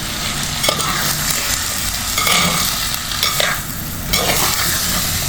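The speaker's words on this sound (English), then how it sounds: "Give it a good mix." Jackfruit core and seeds stirred in a hot pan with salt, giving a steady close sizzle and frying hiss under continuous scraping of the spoon, with no pauses.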